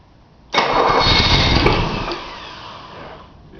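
A Datsun 280Z with a suspected faulty ECU cranks and fires abruptly, roaring loudly under a touch of throttle before the revs sag and fade into a rough, weakening run.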